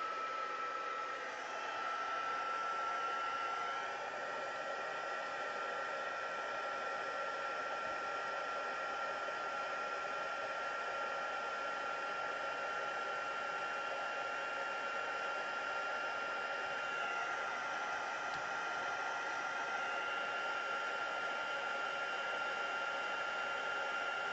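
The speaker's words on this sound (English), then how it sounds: "let me just grab my heat tool" A heat tool blows hot air in a constant, even whoosh to emboss a stamped card, steady and close for the whole stretch with no talking.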